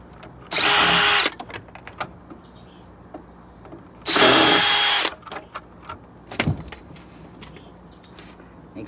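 A power drill drives screws during remodeling of a 2007 Aliner pop-up camper, with two loud, close, whirring bursts of about a second each, separated by quiet handling clicks and faint birdsong.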